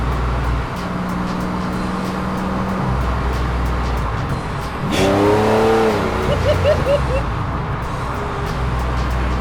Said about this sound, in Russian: Когда сильно газуешь, огонь из трубы летит.